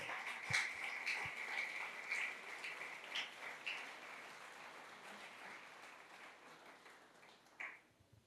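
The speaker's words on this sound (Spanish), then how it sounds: "Denles aplauso, dale aplauso al Señor" Applause from a church congregation at a servants' gathering, a steady wash of clapping heard at a moderate distance that tapers off toward the end, with a few shouts rising above it.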